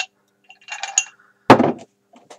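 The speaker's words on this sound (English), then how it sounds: "you take your glass and the ice cubes," Ice cubes dropped into a glass while making a Shirley Temple mocktail: a few light clinks, then a sharper, louder clatter as cubes knock together and against the glass.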